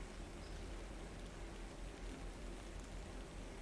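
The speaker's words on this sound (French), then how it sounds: "il pleut doucement sur la ville" Soft, steady rain falls over a city's cobbled streets, a constant hiss with fine patter, even and gentle with no voices.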